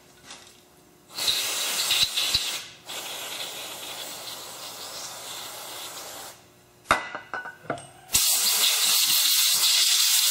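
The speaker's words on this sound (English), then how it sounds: "Now I think I'm just going to blow it all out and get all the dirt out of there." Compressed air blasts dirt out of an 8 ball slider in loud hissing bursts, one long spray, a pause, then short sharp puffs and another strong continuous blast near the mic.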